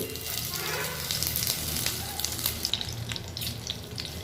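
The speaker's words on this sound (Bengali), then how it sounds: "আমি ডিমগুলোকে কড়াইতে আস্তে আস্তে বসিয়ে দেব" Eggs sizzle as they fry in refined oil in a wok, a steady crackling hiss that keeps up throughout with small pops and spatters.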